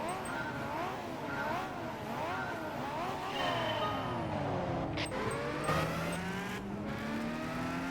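A Ferrari 512B racing in Gran Turismo 5, its engine revving up and down through gear changes, then a long rising pull as it accelerates, with other cars passing around it.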